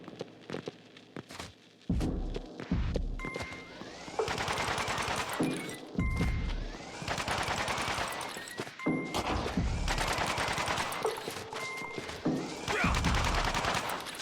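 Rapid volleys of gunfire and deflected bullets in the game Gunbrella, dense bursts of cracking shots repeating in waves across the stretch, loud and busy with brief gaps between barrages.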